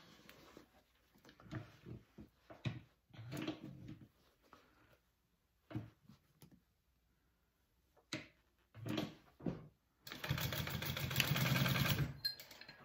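Home sewing machine basting a fabric edge down onto the main body of a sling bag, a steady motor whir for about three seconds at the end after a stretch of quiet handling sounds.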